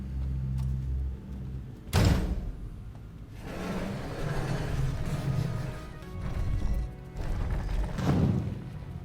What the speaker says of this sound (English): It made a noise like a door shutting, didn't it?